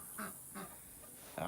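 Farm ducks give a few short, nasal quacks, three or four spaced calls at moderate distance over a faint background hiss.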